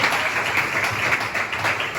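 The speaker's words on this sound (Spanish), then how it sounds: "Denle ese fuerte aplauso al Señor esta hora." Congregation applause at a church service, a steady dense wash of clapping sustained throughout, fairly loud and close with no pauses.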